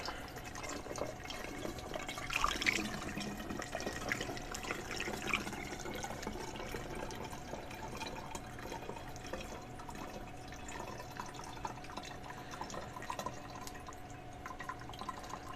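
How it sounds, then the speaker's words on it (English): Isopropyl alcohol pours steadily into a graduated cylinder, a soft, continuous trickle and splash with faint drips, fairly quiet and close, running alone with no talk. "Starting to slow down the pour as I approach the 350 milliliter mark."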